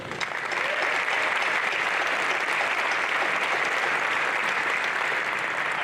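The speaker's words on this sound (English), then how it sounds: "We also need to give a round of applause to our biggest supporters, our fans, and loved ones who are present in person and in spirit." Audience at a Palmer, Florida high school graduation ceremony breaks into sustained, steady applause, a dense wash of clapping that holds at full level from start to finish with no voices standing out.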